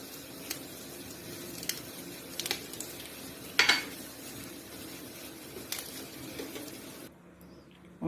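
Green chillies are chopped with a knife on a board in a quiet kitchen, giving scattered light taps and a few sharper knocks, one louder cluster midway, before going near silent at the end.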